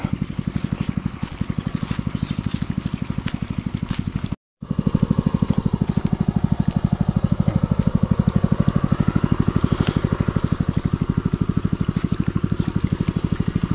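A small irrigation pump engine chugs steadily and close by with a fast, even rhythm, briefly cutting out for a moment before running on.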